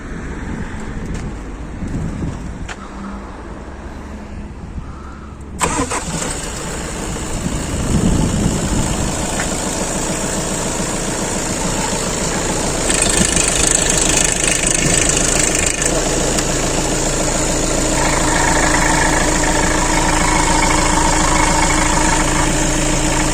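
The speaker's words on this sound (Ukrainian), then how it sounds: "зараз буду заводити, нього гріти, дивитися, як там мотор працює" A used car freshly imported from Europe is started for a diagnostic check. Quiet background gives way to the engine catching abruptly, then a loud, steady idle that continues while it warms up.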